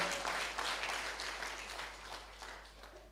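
A church congregation at a Sunday online worship service in Jakarta claps in sustained, fairly even applause that slowly fades over three seconds, with no voices over it.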